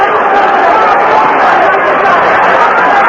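Loud, dense crowd roar fills a boxing arena during the 1982 Aaron Pryor vs Alexis Arguello title fight, a steady unbroken din with babble throughout.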